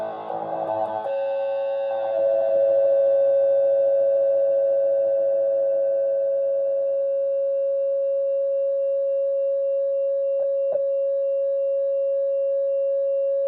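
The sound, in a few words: guitar through wah pedal with distortion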